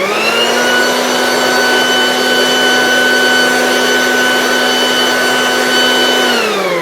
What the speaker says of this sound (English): A lot of us dry our vehicles with forced air.